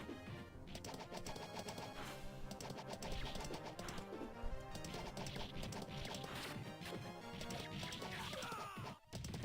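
Hooves clip-clop steadily as a horse is ridden in a video game, a quiet, continuous rhythmic beat mixed with scattered crashes and bird-like chirps.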